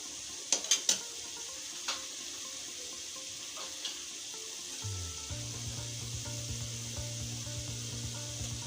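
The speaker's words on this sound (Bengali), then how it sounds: "আবার এটাকে কষে দিচ্ছি দিয়ে দেবো বাদাম বাটা" Chicken roast being stir-fried in a pan hisses with a steady sizzle, with a few sharp clinks of a utensil early on and a low rumbling hum taking over in the second half.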